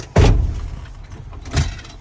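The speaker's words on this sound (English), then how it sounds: "We're gonna close the door." A truck cab door shuts with a solid thump close by, and a second, softer knock follows about a second and a half later, with no talk over either sound.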